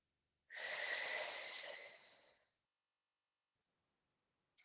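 A single long, loud, airy exhale rushes out for about two seconds during a yoga exercise, close to the listener, followed by silence and the start of another breath.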